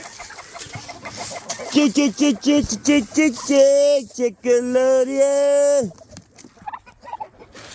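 Backyard chickens clucking in short repeated bursts, then longer drawn-out calls, close and fairly loud, with a person calling to them at the start.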